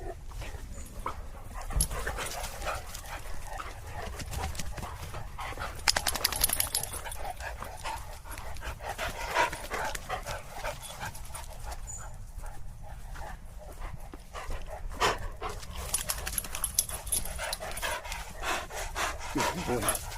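A Labrador and a Cane Corso on a cold-weather walk pant in rapid rhythmic breaths close by, with rustling footsteps and occasional faint whimpers throughout.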